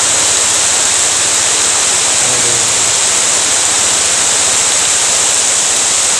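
Heavy rain pours steadily over an oil palm plantation road, a dense, loud, unbroken hiss with no breaks throughout.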